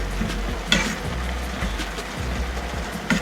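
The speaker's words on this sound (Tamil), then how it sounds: "கொஞ்சம் உப்பு, நல்லா ஒரு மிக்ஸ் கொடுத்து" Banana flower mixed with turmeric and salt is stirred in a pan, a steady close sizzle with a spoon scraping and knocking against the metal a few times.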